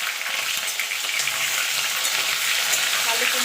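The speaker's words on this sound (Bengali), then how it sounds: "আলু কুমড়োটা দিয়ে মিনিট খানেক একটুখানি নাড়াচাড়া করে নেব।" Potato and pumpkin pieces stir-fried in hot oil in a pan for a vegetarian Bengali pui shaak chorchori, with a loud, steady close sizzle and faint stirring scrapes throughout.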